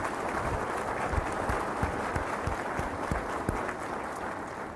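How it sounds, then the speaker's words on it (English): An audience at North Carolina Governor Stein's State of the Economy speech gives a big round of applause, steady and full, with individual sharp claps standing out over the continuous roar of many hands. "Let's give that a big round of applause."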